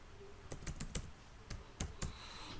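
A computer keyboard is heard as a username is typed, a short sparse run of distinct key clicks spread across a couple of seconds against quiet room hiss.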